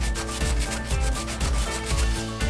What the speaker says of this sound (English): we're gonna come back and sand it once it's dry